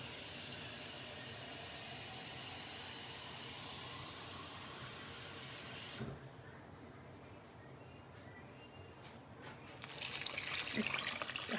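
Water pours into tamale dough with a steady hissing trickle that stops abruptly partway through, followed by quieter sounds of handling and a faint voice before a louder wash of sound returns.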